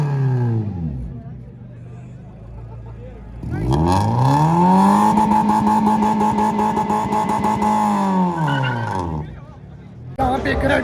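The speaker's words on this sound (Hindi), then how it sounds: "यहाँ पे एक रेड गाड़ी आई है," A red car arrives at a university car show in Peshawar, its engine revving up loudly and holding a high throttle drone for several seconds before easing off, with crowd chatter around it.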